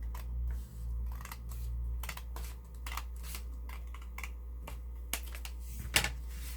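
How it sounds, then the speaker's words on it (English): Paper is trimmed with scissors while a small pocket-sized prayer junk journal is made, giving a string of close, crisp snips and rustles, irregular and fairly quiet, with no talking. "we're going to kind of like cut every piece to the edges like so."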